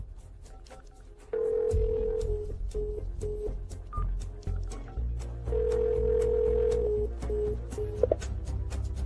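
A telephone sounds a sequence of dialing tones and ringback pulses, steady beeps recurring over a low background hum, with music-like ambience beneath and no talking.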